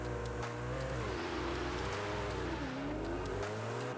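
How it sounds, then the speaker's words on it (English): A Koenigsegg Jesko in Forza Horizon 5 accelerates hard on a highway. Its engine drones loud and steady, with the pitch climbing through several gear shifts and dipping briefly at each change. "So if we drive over to the highway, I can show you just how fast this car is."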